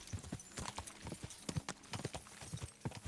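Horse hooves clip-clopping on the ground in the medieval video game Kingdom Come: Deliverance 2, a steady rapid walking rhythm of close, crisp hoof strikes with nothing else over it.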